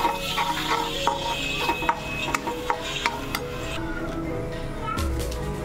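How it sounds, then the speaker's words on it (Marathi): Spices being stirred into softened tomatoes in a cooking pan: a steady scrape of a spoon with small clicking taps over a soft sizzle, close and fairly quiet throughout. "मसाले पूर्णपणे टाकून घेतलेत आणि आपण आता मिक्स करूया त्यांना"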